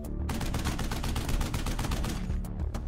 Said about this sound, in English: As the men move, bullets ricochet off of the concrete barriers.